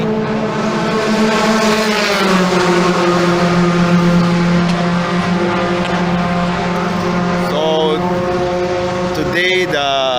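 F4 race cars on a practice run at Clark International Speedway in the Philippines. A steady, loud engine drone holds throughout, with sustained harmonic whine that rises and falls as cars pass. Brief higher revving bursts come near the end.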